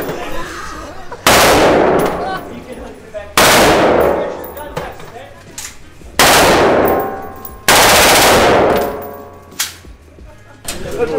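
Four loud, close gunshots ring out at an indoor shooting range, each a sharp blast with a long ringing decay, spaced a couple of seconds apart with quiet gaps between.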